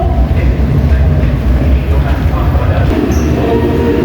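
Metro train on the Northeast line at Punggol MRT station in Singapore, a steady loud rumble of rail transport with rolling wheel noise throughout, faint high squeal near the end.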